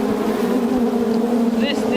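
Honey bees hum steadily around a hive, their loud, sustained drone filling the air near the listener with a few faint higher whines drifting in and out.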